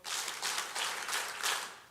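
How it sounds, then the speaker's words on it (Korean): Seminar audience clapping on cue, a steady burst of broadband applause with several pulses of hand claps over about two seconds, moderately loud with no talk. "박수 5번."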